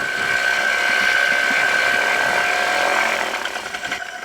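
A flexwing microlight engine held at steady high revs during a pre-takeoff run-up on a runway, a loud continuous buzzing drone with a high whine that falters and eases near the end.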